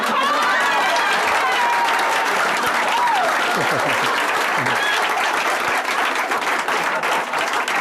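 An audience gives loud, sustained applause that fills the whole stretch, dense clapping with a few whoops and cheers over it and no letup.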